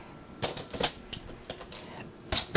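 Paper is cut to size for a 5.5 by 8.5 inch graduation card with a paper trimmer, producing a series of short, sharp, close cutting and scraping clicks in an irregular rhythm.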